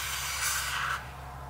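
A short hiss of aerosol spray wax applied to a bicycle chain bursts for about a second, close by, then cuts off to quiet background.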